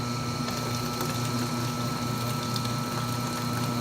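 Soft-serve mix drains from a Taylor C707 machine set to wash into a bucket, a steady low mechanical hum with liquid flow running continuously, moderately loud and close, with no voices.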